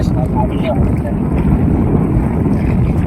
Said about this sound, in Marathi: आणि पाण्याचा आवाज कसा आवाज येतो बघा.